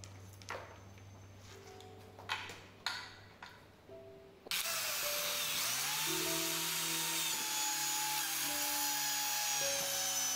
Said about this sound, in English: drill 8mm to 9mm drill hole on all four intersecting points of seat rest component and front / back leg components